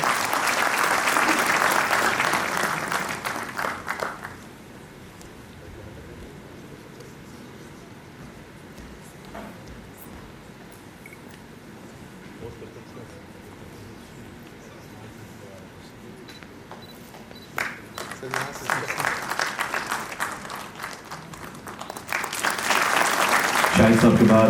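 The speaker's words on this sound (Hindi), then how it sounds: "जोरदार तालियां शाहिद साहब के लिए।" An audience at the IGNOU regional convocation in Srinagar claps in a loud, sustained burst, falls to a quiet murmur of the hall, then swells into a second strong round of applause at the end.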